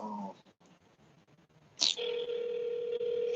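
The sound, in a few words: telephone dial tone while placing a call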